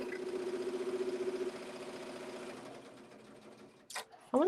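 A Poolin EOC06 embroidery machine stitches appliqué patches in a fast, steady mechanical chatter that slows and fades, followed by a couple of brief clatters near the end.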